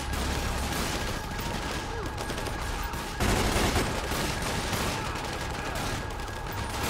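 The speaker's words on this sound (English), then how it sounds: "You guys hearing the shots, yo?" Sustained gunfire from a GTA 5 police shootout with SWAT during a gang unit patrol, dense overlapping shots crackling continuously, with a louder burst a little past the midpoint and no break between volleys.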